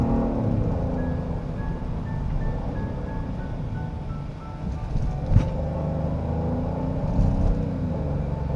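A Genesis GV70 facelift 3.5T with the sport package pulls hard along a road, its engine droning in a low, steady rumble whose pitch climbs under acceleration, with road and tyre noise beneath and no talk.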